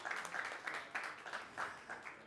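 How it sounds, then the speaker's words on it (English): Faint, distant applause from an auction room audience after a charity lot sells, scattered claps arriving in soft uneven pulses. "Round of applause, ladies and gentlemen."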